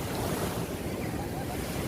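Strong ocean waves at Patar Beach in Bolinao produce a continuous, loud roar of surf mixed with wind buffeting the microphone, steady throughout with no clear breaks.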